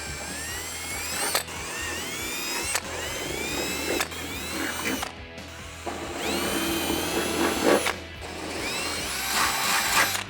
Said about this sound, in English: I'm going to go ahead and take a drill bit. We'll open up all these holes